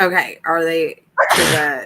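A single sharp sneeze bursts out near the end, loud and close, following two short bits of voiced talk from a person at a tabletop roleplaying game session.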